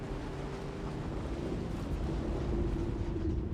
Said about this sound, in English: Uh-oh, sandworm.